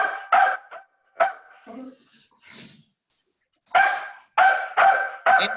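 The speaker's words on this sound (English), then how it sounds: "whoever dog is barking, please mute your computer." A dog barks over a computer microphone during an online board meeting, with repeated short barks in bursts separated by brief pauses and whimpering, loud and close to the mic.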